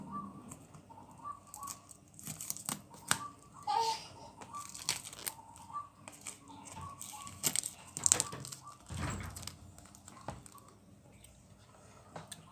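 Plastic wrapping and cardboard packaging of a 20000 mAh power bank being opened, with soft crinkling, rustling and tearing noises up close, quiet and irregular throughout.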